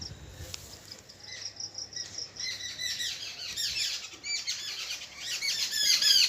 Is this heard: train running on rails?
no